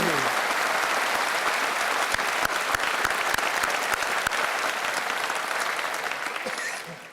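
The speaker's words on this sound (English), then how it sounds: "let's give him a big round of applause" Audience applause at a university spring convocation ceremony, a steady dense clapping that holds strongly for several seconds and then tapers off at the end, close and loud throughout.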